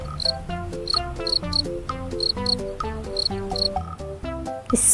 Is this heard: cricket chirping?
yes